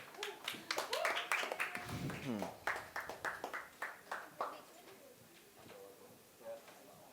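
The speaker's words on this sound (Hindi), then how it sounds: "प्लीज इनके लिए एक बार तालियां हो जाए" A studio audience claps to welcome players onto the set of a reality show: a burst of scattered, overlapping claps that thins out after a few seconds while voices talk over it.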